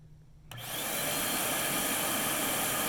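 A Riccar vacuum cleaner starts up after its reset switch is pressed: a quiet hum, a sharp click, then the motor spins up within half a second into a loud, steady whine that holds to the end.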